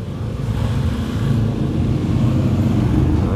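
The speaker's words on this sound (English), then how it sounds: "There go the Harleys." Harley-Davidson motorcycles rumble past a German car junkyard in Bennington, a continuous loud, low throaty roar that swells slightly as they go by.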